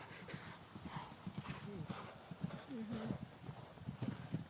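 A jumping horse's hooves strike the ground in a quick, irregular clip-clop rhythm, moderately close, while people talk and a voice calls out over the hoofbeats.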